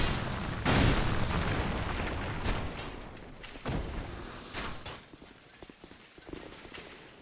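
An explosion in a video game: a booming blast with a loud onset, followed by several smaller bursts and pops that fade into quieter rumbling over the next few seconds.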